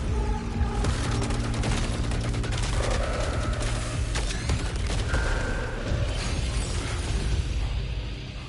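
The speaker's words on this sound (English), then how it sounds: "Tactical rifle, rising pitch, level 16, damage accumulation, super load and piercing rounds" A tactical rifle firing piercing rounds in the sci-fi video game Saros, rapid continuous bursts of loud gunfire mixed with booms, bursts and shattering impacts over a dense, busy battle soundscape.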